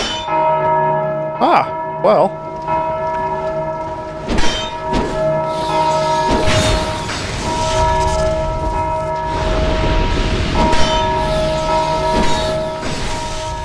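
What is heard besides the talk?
bell ringing in Dark Souls 2 video game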